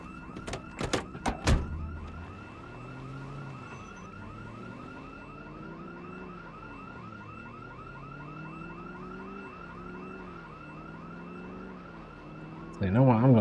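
A car or house alarm in the Project Zomboid video game sounds close and loud, a cycling electronic wail that rises and falls steadily for over ten seconds, preceded by a few sharp knocks and followed by another burst of noise.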